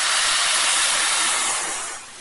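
Cognac splashed into a hot pan and set alight for a Parisian pepper sauce gives a loud, broad rushing hiss that holds steady, then eases off toward the end.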